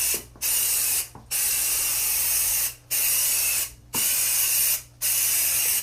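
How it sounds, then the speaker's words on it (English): Bed bug treatment sprayed onto carpet in four long, steady hissing bursts, each lasting about a second or more, with short silent gaps between them, close and fairly loud. "So let me show you how to spray the carpet."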